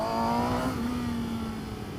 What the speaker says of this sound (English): There's something about these Suzuki engines, they've kind of got this like slightly raw edge to them, like it's a bit metallic, bit raspy